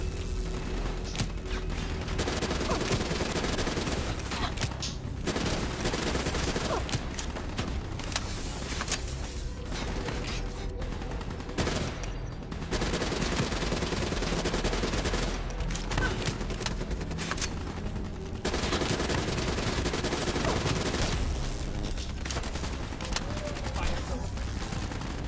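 Sustained gunfire in the video game Call of Duty: Black Ops 3, dense continuous bursts of automatic shots with brief gaps, loud throughout and layered with game effects.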